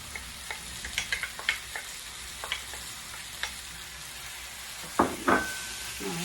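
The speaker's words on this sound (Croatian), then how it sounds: "Malo ćemo promiješati. Samo malo nek se uprži." Garlic frying with peppers in a pan gives a steady sizzle, broken by a few light utensil scrapes and a louder burst of stirring near the end.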